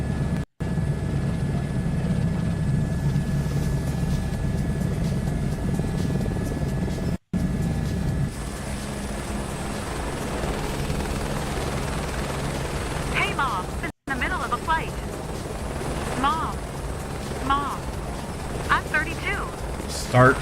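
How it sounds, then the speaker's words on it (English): Helicopter flight in Microsoft Flight Simulator 2024, a continuous low rotor and engine drone running under the whole stretch with brief dropouts, while a person talks over the later part. "I'm in a helicopter."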